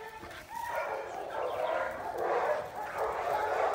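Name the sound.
dog barking during drive training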